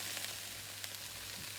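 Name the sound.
vegetables and frozen sweet corn frying in a pan for paella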